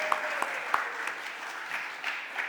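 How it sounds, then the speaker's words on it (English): Scattered claps from a small group at a Philadelphia City Council meeting, faint and sparse, a few sharper hand claps standing out over a soft continuous patter. "Y'all want to give her a round of applause?"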